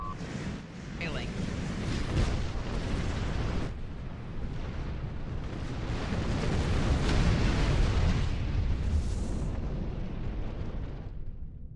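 Continuous explosion rumble during a space battle in the video game Star Trek Online as a ship comes under attack, dense, booming blasts layered over one another for the whole stretch.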